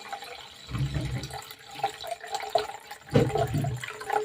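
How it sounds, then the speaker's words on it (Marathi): Wheat grains rubbed and scrubbed by hand in a vessel of water, wet swishing and sloshing in irregular bursts with small drips, close and moderately loud. "चोळून चोळून बघा किती खराब पाणी निघालेलं आहे"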